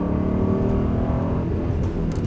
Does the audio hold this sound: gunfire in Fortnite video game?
no